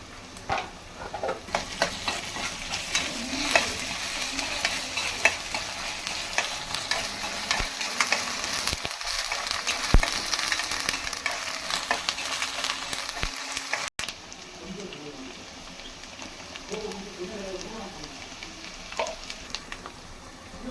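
Ginger garlic paste sizzles and fries in a pan for a fish curry while being stirred, with continuous crackling and repeated scraping strokes throughout and a brief pause partway.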